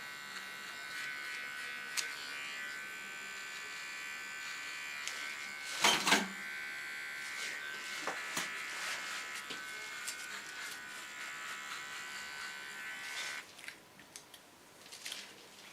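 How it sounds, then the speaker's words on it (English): A small electric hair clipper buzzes steadily while trimming the hairline during a bob haircut, a low continuous hum with a brief louder burst near the middle as it touches the hair. "cleaning of the line I do with a small clipper"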